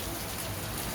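Steady rain falling outdoors during a motorcycle taxi ride in the Philippines, a dense, even hiss of drops on surfaces filling the whole moment without a break.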